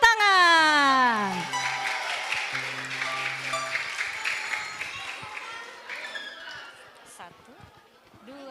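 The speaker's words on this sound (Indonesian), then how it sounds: "Mari kita tepuk tangan." Steady applause from a crowd at a school extracurricular showcase fills the room for several seconds, with a few voices and music notes over it before it tapers off.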